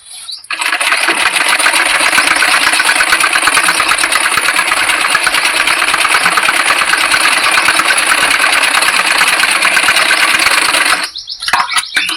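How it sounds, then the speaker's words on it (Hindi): A sewing machine runs fast and loud in a steady, unbroken rattle while double-stitching a blouse button strip, then stops abruptly near the end with a few brief clicks. No voices. "दोबारा से एक सिलाई हम और लगाते हैं बटन की पट्टी में, क्योंकि बटन की पट्टी में डबल सिलाई लगाई जाती है।"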